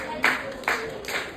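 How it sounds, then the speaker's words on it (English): Three sharp hand claps spaced about half a second apart, close and fairly loud, with a quiet room behind them. "Give him a round of applause."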